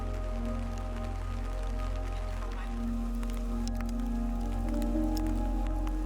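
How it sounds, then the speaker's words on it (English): Raindrops begin to fall on a spring campsite, giving scattered light taps and drips over a steady low background hum. "the first few raindrops began to fall"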